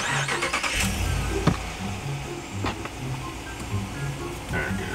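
A car engine cranks and starts, catching after a few uneven bursts and settling into a low idle with a flashing engine light, fairly quiet and close, with no talk over it.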